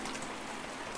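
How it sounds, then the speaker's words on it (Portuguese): Steady rain hisses close by, a dense even patter with no pauses and no voices, from a PC video game. "E lá estava eu, parado, na chuva."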